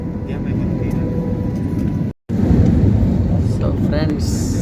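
Inside a passenger plane landing in Delhi, a loud steady roar of engines and wind fills the cabin, briefly cutting out for a moment midway before resuming at full strength.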